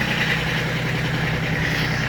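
A Kubota B8200E compact tractor's engine idling just after a cold morning start, a steady close rumbling drone with even vibration throughout and no speech.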